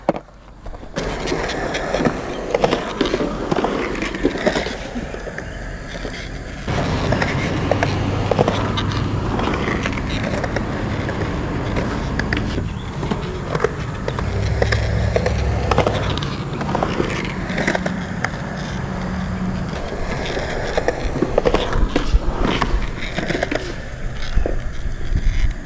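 A skateboard rolls through a skatepark bowl section, its wheels giving a continuous gritty rumble with clacks and thumps as it carves and transitions, loud and close throughout.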